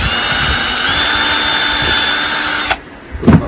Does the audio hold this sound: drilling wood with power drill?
yes